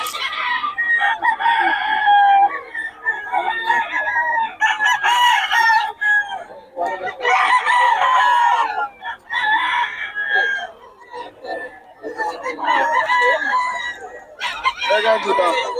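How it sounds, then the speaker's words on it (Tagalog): Roosters crow loudly and repeatedly at close range, with clucking in between, while people talk over and around the calls. "Ulit mga manok ni Boss Joe."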